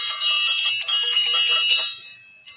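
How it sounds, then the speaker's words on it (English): A pair of chiming metal balls are turned in the hand, giving bright, ringing bell-like tones that overlap closely and fade out at the end. "and it makes that bell sound."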